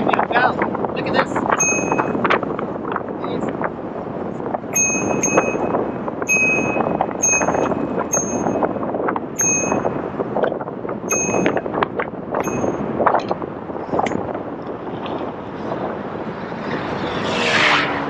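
Bell on a Begode EXN HS electric unicycle, a series of bright repeated dings over steady riding and road noise on a bike path, with a voice talking throughout.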